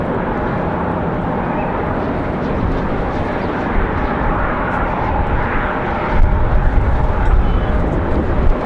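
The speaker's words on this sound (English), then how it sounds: "Speaking of Breeze Airways, we got one for arrival." A Breeze Airways airliner arriving at Raleigh-Durham International on a windy day, a steady broadband roar of jet noise mixed with wind buffeting, moderately loud and continuous, with a brief louder gust near the end.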